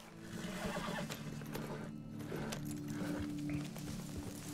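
A horse whinnies in the video game Red Dead Redemption 2, a drawn-out neigh heard over steady outdoor ambience and low game background noise, with no talking.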